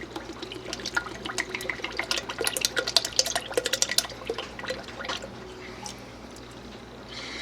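Tomato juice poured from a small soda-type can into a pot of homemade vegetable beef soup, a steady close liquid splashing and dripping that thins out toward the end.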